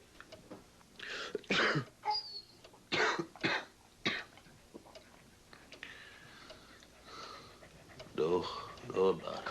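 A series of harsh, close coughs and throat clearings comes in quick bursts from a person with a cold in a 2000 NyQuil cold-medicine TV commercial, followed by a voice speaking.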